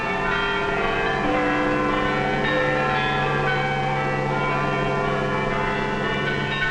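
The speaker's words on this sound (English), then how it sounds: "Once more, the people of Britain heard their church bells ring." Church bells in Britain ring loudly and continuously, overlapping tones sustaining and blending into a rich, resonant peal.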